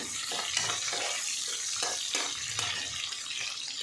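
Onion sizzling in a cumin, mustard seed and curry leaf tempering, stirred with repeated scraping strokes over a continuous close frying hiss, no voices.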